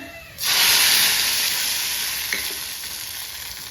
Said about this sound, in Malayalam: ഒരു ഉണക്കമുളകും ഒരു കറിവേപ്പില അരിഞ്ഞേക്ക് കൊടുക്കാം ഇത് മൂത്തിട്ടുണ്ട് തീ ഓഫ് ചെയ്തിട്ട് നമ്മുടെ ചെറുപയർ പരിപ്പറിയിലോട്ട് ഒഴിച്ചു കൊടുക്കാം